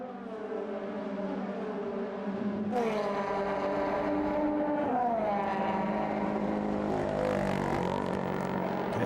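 A DTM Audi race car crawls down the pit lane held on its rev limiter, a loud buzzing engine note with rising harmonics, close and steady, joined by more engine sound partway through.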